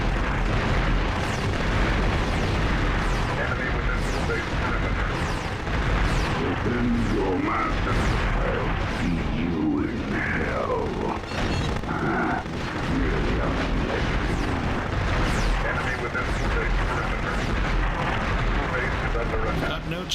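Dense, continuous booming explosions and artillery-like blasts as a blue base turret is destroyed in a multiplayer video game, loud and sustained with game announcer voices mixed in.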